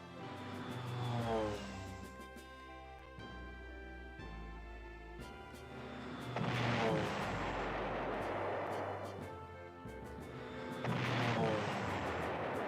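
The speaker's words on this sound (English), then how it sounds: "let's strategic bomb the town too" Strategic bombing of a town in the retro PlayStation strategy game Panzer General, with three loud swelling waves of explosive blasts and rumbling fire rising and fading over a continuous low roar of game audio.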